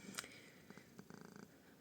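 A domestic cat purrs quietly close by, a faint run of soft rhythmic pulses preceded by a few small clicks and rustles.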